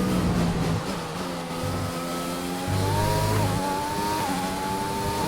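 Williams Formula 1 car engine in the F1 2020 racing game, a loud continuous high-pitched whine that rises and shifts through gear changes, with no voices.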